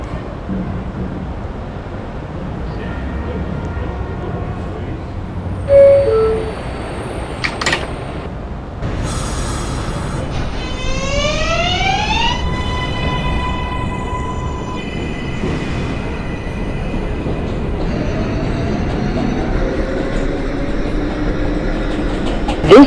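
Automated IRT 7 local subway train running with a steady rumble, a few clunks and a rising electric motor whine as it accelerates, close and loud, without voices.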